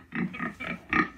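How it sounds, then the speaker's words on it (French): A recorded pig sound played back by Google Assistant: four short, nasal oinking grunts in quick succession, clear and close, with no other voices. "Fais le bruit d'un cochon."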